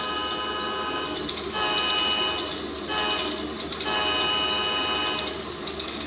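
Recorded railroad crossing bell played back through a small DIY speaker setup, a rapid steady ringing pulse repeating in bursts of about a second, fairly loud and alone.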